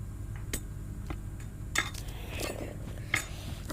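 In the I Am Cat video game, a sausage is set down and sliced on a cutting board, giving a few sharp knife-on-board clicks and clinks over a steady low background hum.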